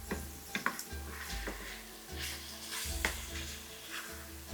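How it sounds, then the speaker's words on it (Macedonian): Pork pieces fry and brown in a pan, making a soft, continuous sizzle with occasional stirring clicks and scrapes from close by, fairly quiet overall and with no voices. "И него не му треба повеќе од 10 минути, само малку да се пропржи"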